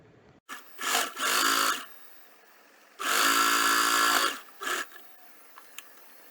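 A home sewing machine stitches fabric for a sling bag with backstitching, running in bursts: two short whirring runs, a longer steady stretch, then a brief final burst, loud and close, with quiet gaps between.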